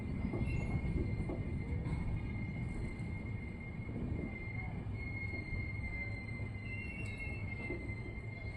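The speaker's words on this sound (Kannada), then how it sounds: "ಇಬ್ರಾಹಿಂಪುರ ರೈಲ್ವೆ ಸ್ಟೇಷನಿಂದ ನಮ್ಮ ಟ್ರೈನ್ ಹೊರಟಿದೆ." The Basava Express pulls out of Ibrahimpur railway station with a low continuous rumble of wheels on rails, a thin high squeal running over it, heard from inside the train at moderate level.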